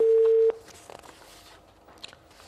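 A steady disconnect tone on a telephone line holds loudly for half a second then cuts off, leaving faint background noise and a few soft clicks.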